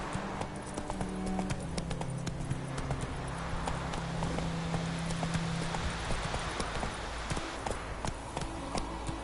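Rhythmic hoofbeats of a horse galloping in a PS4 video game pound steadily throughout, with faint game ambience underneath.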